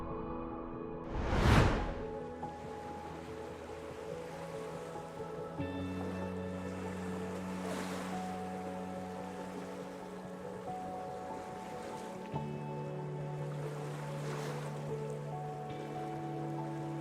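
Ocean surf at Mar del Plata, Argentina, with one loud wave surge early on, then a continuous wash of water and softer swells rising and falling beneath a steady tonal background.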